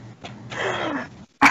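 A person clears their throat in one short, harsh rasp, close and loud, followed by a brief sharp burst after a gap of silence.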